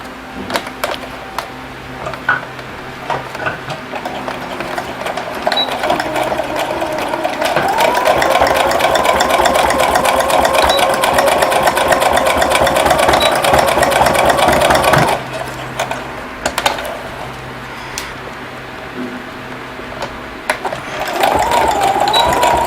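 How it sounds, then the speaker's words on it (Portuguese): A sewing machine runs a straight stitch along folded bias binding for a small fabric bow keychain, its steady mechanical whir building to a sustained close run in the middle, with brief starts and stops around it. "E eu vou costurar esse viés bem aqui na minha marcação, ó, da dobra do meu viés com uma costura reta."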